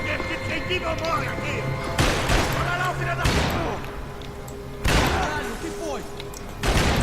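Gunfire in the video game Max Payne 3: several loud bursts of shots and booming impacts hit in spaced clusters, over game music and background tones, with someone talking throughout.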